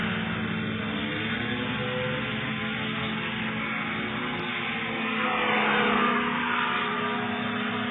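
A Formula 2 racing hovercraft at a national hovercraft race meeting in Tamworth, UK, crosses the line, its mid-pitched engine droning steadily and swelling louder as it sweeps past.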